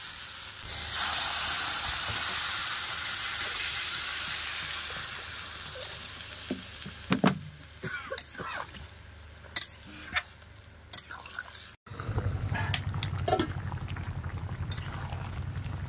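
Prawn curry in a pan just after water is added to the fried spice mix, giving a loud steady sizzle and hiss that settles into quieter bubbling with scattered stirring clinks, then swells again near the end.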